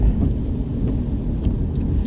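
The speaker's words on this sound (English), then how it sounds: "It's a shame it's a rainy day" Rain patters on a car driving through the wealthy Riverdale and Fieldston neighborhoods of the Bronx, New York City, a dense continuous wash over the low road and engine rumble, close and fairly loud.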